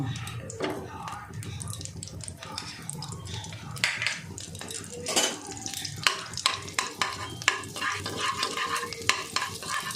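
A spoonful of butter melts in white cooking oil in a pan while being stirred, producing a busy crackling sizzle with repeated scraping strokes and clicks of the spoon, growing more spattery toward the end.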